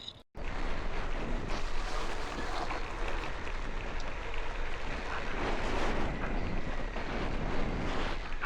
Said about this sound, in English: Very strong winds today.